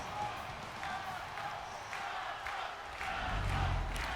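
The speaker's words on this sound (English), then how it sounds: "Everybody's cheering for Ciampa, or Ciampa, rather." Video game crowd in WWE 2K23, a steady cheering roar with rhythmic chanting pulses that swells louder near the end, heard without clear talk.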